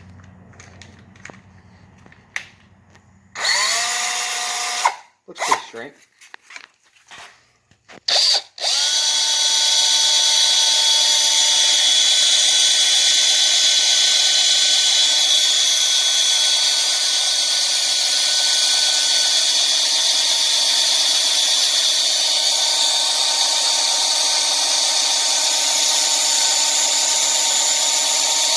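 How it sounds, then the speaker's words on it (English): A power drill whines steadily and loudly for about twenty seconds, drilling into a snapped bolt, after a few short bursts and a brief spoken remark. "first things first, I'm going to need to get the drill, put the drill bit in."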